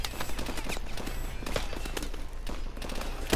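Gunfire in the video game Call of Duty Advanced Warfare comes as rapid, fairly faint bursts of shots with sharp cracks scattered across a few seconds under a steady game background.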